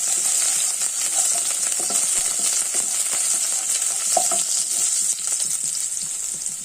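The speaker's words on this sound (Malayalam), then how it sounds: "ഞാൻ ഒരു ടേബിൾ സ്പൂൺ വെളിച്ചെണ്ണ ഒഴിച്ചു അതിനകത്തോട്ട് നമുക്ക് രുചി വെളുത്തുള്ളി പച്ച വെളുത്തുള്ളി കറിവേപ്പില ഇതിട്ട് നമുക്കൊന്ന് ജസ്റ്റ് ഇളക്കാം" Garlic and curry leaves stir-frying in coconut oil, a steady bright sizzle held at close range throughout, with soft scraping and clinks from stirring scattered across it and no talk.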